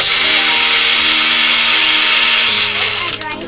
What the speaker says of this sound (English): Our dry ingredients are ready to grind.